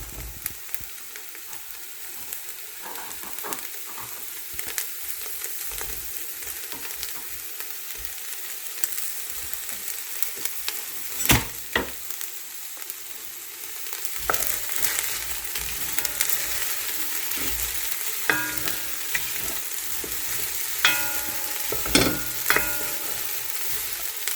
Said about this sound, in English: Okay, so I'm going to add the peppers.